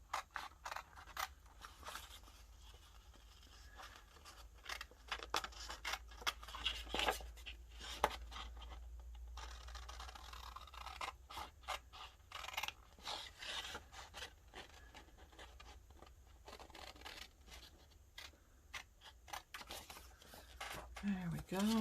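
Scissors snipping through 12 x 12 scrapbook paper close up, a long run of short crisp cuts and paper rubbing in irregular bursts, with occasional quiet handling noise and no talking over it.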